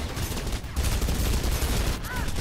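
Dense, continuous bursts of rapid gunfire in the video game Mirror's Edge fill the clip, loud and sustained, with a brief dip partway through.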